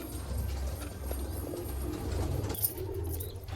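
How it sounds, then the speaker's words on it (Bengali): Madras and Malwai pigeons coo softly at a pigeon loft, low murmuring calls blending into a steady background hum, fairly faint and continuous without any voices. "কিছু ম্যাড্রাস পায়রা সেট হচ্ছে ওড়ানোর জন্য"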